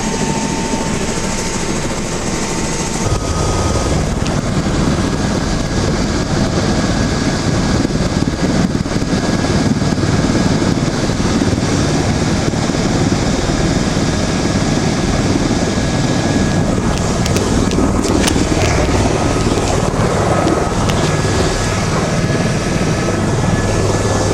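A helicopter at the Grand Canyon roars loudly and steadily up close, its rotor and engine noise swelling as it lifts off and keeps flying.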